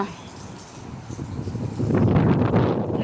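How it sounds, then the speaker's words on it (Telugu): Rough, steady wind noise buffets the microphone, growing louder and gustier halfway through, with no clear voices over it. "గాలి కానీ గాలి కొట్టుకొని వెళ్ళిపోతామో ఏమో అనిపించారు"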